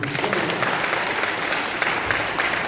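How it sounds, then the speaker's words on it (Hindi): A church congregation in Chhattisgarh claps loudly and steadily throughout, a dense, even wash of applause with no pauses. "एक बार जोर से ताली बजे।"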